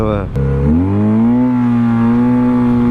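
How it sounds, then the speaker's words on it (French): Yamaha TMAX 530 DX scooter with a Termignoni exhaust, its engine rising in pitch then holding a steady, loud drone, with a voice talking over it. "La sonorité avec le Terminioni est pas mal du tout"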